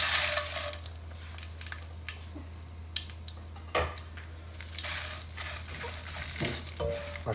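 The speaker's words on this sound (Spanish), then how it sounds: "Pues aquí ya tenemos un sartén con aceite donde vamos a pasar nuestros chiles primero." Chiles fry in oil in a pan, a crackling sizzle punctuated by sharp clinks and scrapes of a utensil against the pan, close and moderately loud with no talking.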